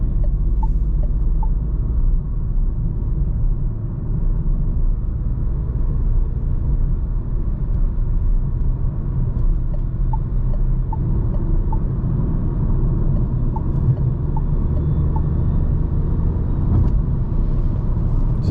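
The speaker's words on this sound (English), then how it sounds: "the petrol engine pulls nicely" A Renault Clio 2024 with a 1.0 TCe 90 hp petrol engine pulls while driving at night, a steady low rumble of engine and road noise heard from inside the cabin, with no sharp peaks.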